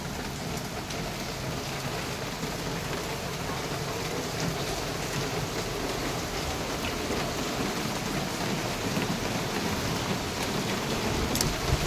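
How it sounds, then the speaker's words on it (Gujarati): Heavy rain pours down steadily, a dense, even hiss of drops drumming on surfaces with no pauses, close and loud throughout. "બહુ જાજો વરસાદ પડે છે"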